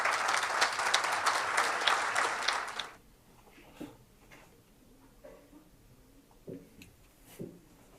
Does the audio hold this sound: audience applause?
yes